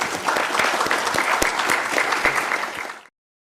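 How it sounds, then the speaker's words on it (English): Applause fills an auditorium at a journalism award ceremony, a dense, steady wash of clapping from the audience lasting about three seconds before cutting off abruptly into silence. "Let's give her a round of applause too."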